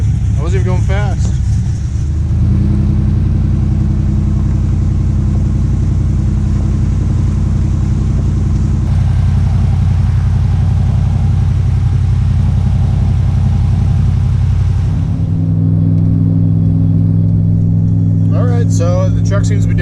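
A lifted, cammed LS-swapped pickup truck engine idling with a low, steady rumble that shifts in pitch partway through, with the engine light on; a voice speaks at the start and end.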